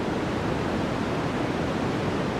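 Steady white noise hisses evenly and loudly across the whole stretch, a continuous, featureless wash with no pauses or voices.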